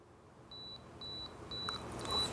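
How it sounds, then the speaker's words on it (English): A camera self-timer beeps in a steady rhythm, paired high-pitched bleeps about twice a second, quickening at the end, over faint background hiss. "Now what you're hearing, there's a beeping, right?"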